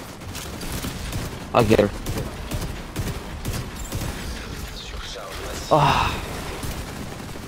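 Gunfire in the Dark Hours game, two sharp bursts a few seconds apart rising over a dense noisy background, with players talking throughout.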